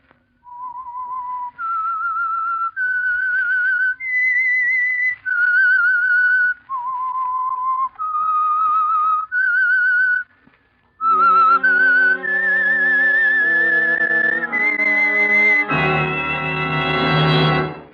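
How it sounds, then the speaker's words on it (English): A signature whistled theme opens The Whistler radio mystery program sponsored by Signal Oil: a lone, clear, melodic whistle of held rising and falling notes, then an orchestral swell of strings and brass that grows to a loud finish. "That whistle is your signal for the Signal Oil program, The Whistler."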